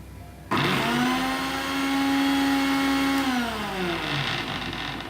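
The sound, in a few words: mixer blending oil into homemade mayonnaise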